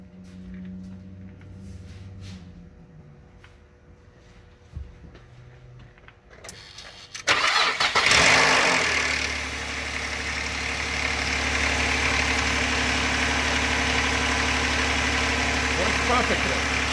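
A car engine with a completely dead battery, boosted by a Tacklife portable emergency jump starter, cranks briefly and catches on the first try, then settles into a loud, steady idle after a quiet start.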